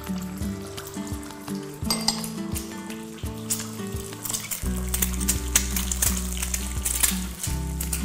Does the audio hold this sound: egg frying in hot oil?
yes